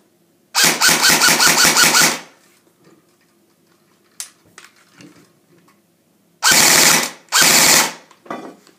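An LCT AK-74 airsoft electric gun cycles in loud, close bursts of rapid mechanical clatter: a long burst of about a second and a half, a few faint clicks and handling noises, then two shorter bursts in quick succession.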